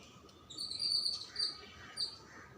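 A sparrow near drinking water gives faint, high chirps in three short bursts against a quiet background with a soft insect-like hiss.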